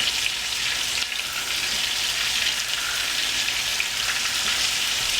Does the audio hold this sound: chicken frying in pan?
yes